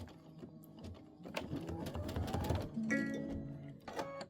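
A sewing machine stitches a bench pillow in bursts of mechanical whirring and clatter, starting and stopping over a few seconds, close and moderately loud with faint room sound between runs.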